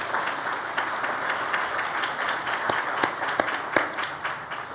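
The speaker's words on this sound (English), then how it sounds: "I think that deserves a round of applause." Sustained applause from a conference audience at a 16th annual diversity and inclusion conference keynote, a steady wash of clapping with a few sharper individual claps standing out near the end.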